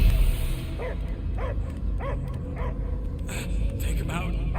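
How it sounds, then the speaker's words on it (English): Dogs barking in the Guardians of the Galaxy video game, a run of repeated barks and yips at a steady rhythm over a low rumbling game backdrop, with no voices in between. "I hear only barking."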